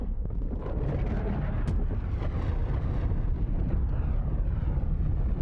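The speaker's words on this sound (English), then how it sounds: "Hellpod launch initiated." A Hellpod launches and plunges down in Helldivers 2, a loud rushing roar of descent with a sharp crack partway through and deep rumbling, continuous throughout.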